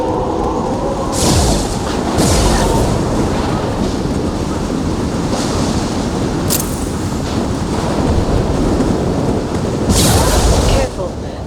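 A thunderstorm in the video game Mass Effect 2: a loud, sustained roar of wind and rumbling, broken by several sharp bursts like thunder cracks, continuous throughout.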